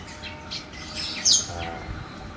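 Caged songbirds being readied for a singing competition give loud, close squawks and chirps, with one sharp shrill call standing out midway over a murmur of background noise.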